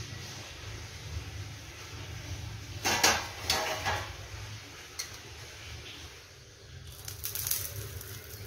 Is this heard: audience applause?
no